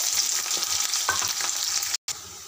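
Onions and green chilies dropped into hot oil with tempering seeds, a loud close sizzle with a few stirring scrapes, broken by a brief cut of silence before the frying resumes.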